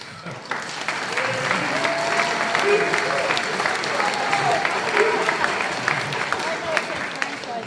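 Sustained applause from a crowd at a sports hall of fame induction ceremony in Aurora, dense and steady for the whole stretch, with faint voices mixed into the clapping.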